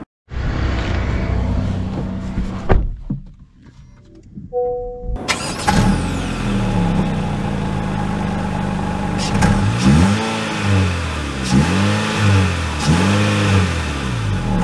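A manual Honda Civic Sport starts, then pulls away in first gear, its engine revving and rising in repeated swells of acceleration after a short quiet pause, heard close from inside the car.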